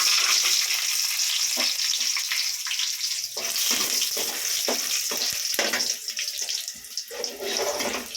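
Dried turkey berries (sundakkai) fry in oil over a low flame, giving a steady, close sizzle and crackle that runs throughout, with intermittent stirring scrapes and no talking.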